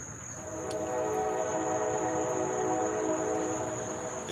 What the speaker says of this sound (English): We get the trains that roll by.